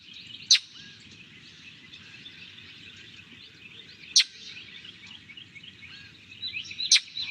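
Recorded call of a mimicking songbird, three sharp, bright chirps spaced several seconds apart over a soft, steady background hiss.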